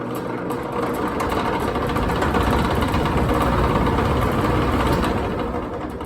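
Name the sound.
2014 Maratherm air conditioner starting, belt spinning, bad bearings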